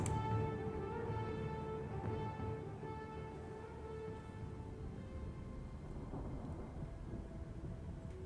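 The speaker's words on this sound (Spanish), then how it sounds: "Rivendell se ha convertido en una isla con tormentas rugiendo a su alrededor." A thunderstorm rages around Rivendell in the Lord of the Rings: Conquest video game, heard as a continuous deep rumble with a steady rain-like wash, low and sustained throughout, with no speech.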